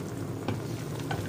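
Beef dalca boiling hard in a covered pot, giving a steady, close bubbling and hissing simmer with faint clicks from the pot and no voices.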